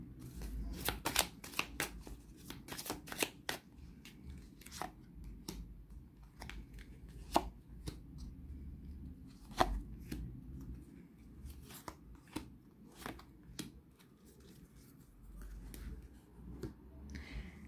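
A Lenormand card deck being cut and shuffled on a table, a quick series of crisp snaps and riffles clustered early, then sparser flicks and taps, close but quiet, no voices.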